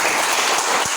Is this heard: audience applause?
yes